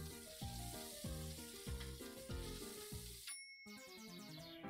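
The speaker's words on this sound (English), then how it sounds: "Move the handle of the pan up and down to toss ingredients and fry without burning." Noodles sizzle and fry in a pan in the Cooking Mama video game, a steady loud crackle with a looping game melody on top and a brief drop to near silence before the music picks up again.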